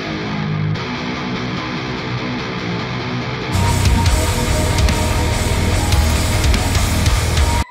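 Distorted baritone electric guitar tone played continuously, going from a thinner opening section into a heavier, fuller full-band-like passage after a few seconds; loud and sustained with no talking.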